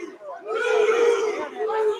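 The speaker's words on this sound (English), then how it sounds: "you hear that crowd shouting out the 2 points" A crowd at a high school wrestling tournament in a gym shouts and roars together, a loud sustained swell of many voices that dips briefly then surges again.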